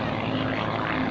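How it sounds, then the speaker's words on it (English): A propeller aerobatic airplane at an airshow drones steadily at a distance, a continuous engine hum with no voices on top. "He's just telling me how the airplane maneuvers"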